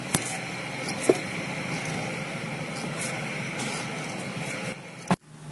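Worn rear wheel bearing on a Yamaha Mio J scooter as the wheel turns, a steady grinding whir with faint rhythmic squeaks, near and continuous, ending in a sudden stop.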